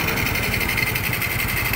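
Honda XRM 125 motorcycle engine running after a full overhaul, a steady close buzzing idle with a fast, even putter that holds constant throughout.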